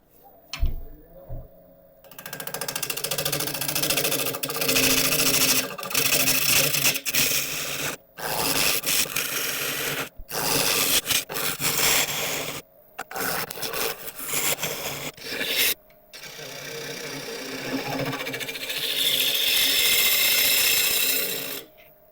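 Woodturning gouge hollowing a London plane burl on a lathe, producing harsh, uneven scraping and chattering bursts from repeated intermittent cuts, with brief pauses between passes, close and loud throughout.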